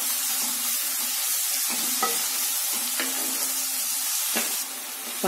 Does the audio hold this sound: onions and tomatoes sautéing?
yes